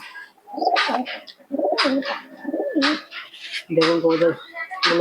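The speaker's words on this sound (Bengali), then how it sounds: "দুটো কবুতরই একদম একসঙ্গে উঠছে" Giribaz pigeons coo nearby in repeated low, throaty bursts, with pauses between each call and some wing or body rustling mixed in.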